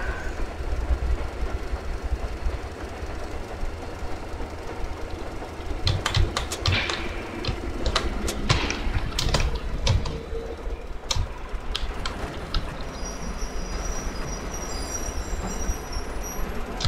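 A train rolling on rails in the video game Metro Exodus, with a continuous low rumble and scattered sharp metallic clacks and clicks building through the middle, without any talk.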